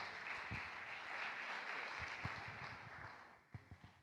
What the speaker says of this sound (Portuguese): vamos receber o pastor Alberi com uma linda salva de palmas